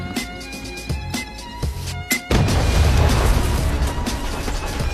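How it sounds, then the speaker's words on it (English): Bomb explosion in an action movie scene: a few sharp bangs and clanks open, then a sudden loud blast swells into a dense, sustained roar of rumbling debris that holds to the end. "Although they dodged the explosion, but Kevin was stabbed in the back by shrapnel"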